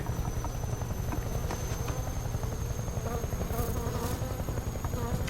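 Soviet helicopter in Metal Gear Solid Delta: Snake Eater, its rotor beating in a fast, steady chop with a continuous buzzing drone and a high whine on top, loud and close throughout.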